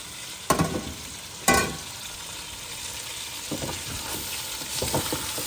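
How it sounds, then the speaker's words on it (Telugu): Chicken frying with ginger garlic paste in a pan for chicken pulav, a steady close sizzle with a couple of sharp stirring knocks early on, no voices. "ఇది బాగా మరగాలి, బాగా ఫ్రై అవ్వాలన్నమాట"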